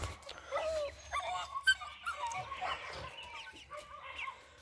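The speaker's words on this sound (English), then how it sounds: "We got some dogs barking back and forth." Dogs bark back and forth somewhere in a neighborhood, irregular yaps of moderate loudness mixed with hens clucking and a rooster crowing nearby in the morning.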